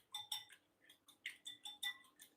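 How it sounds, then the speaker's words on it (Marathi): Eggs seasoned with salt and black pepper are whisked in a bowl, a quiet run of rhythmic metallic clinks from utensil against the bowl, about eight taps in a steady beat, close but faint with no speech. "आणि हे फेटून घ्यायचे."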